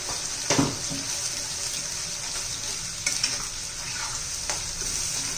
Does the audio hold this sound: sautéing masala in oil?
yes